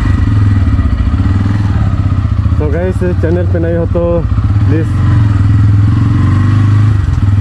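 A new motorcycle's engine idles in a steady low rumble throughout, while someone talks over it for a few seconds.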